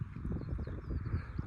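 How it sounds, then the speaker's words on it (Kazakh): Horses walk along with faint, rhythmic hoof clip-clops, soft and somewhat distant, with no talking. "Әлхамдулилля, малдар жүр, жылқылар жүр."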